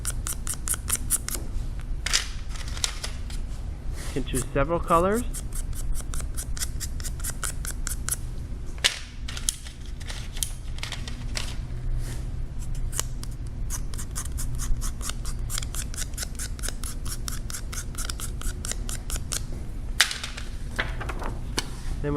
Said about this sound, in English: you take your popsicle stick and you scrape that chalk onto the top of the water